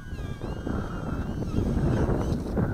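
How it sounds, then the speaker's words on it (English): Wind picks up through trees outdoors, a steady broadband rush that swells slightly over a few seconds, close and fairly loud. "Hear the wind picking up in the trees?"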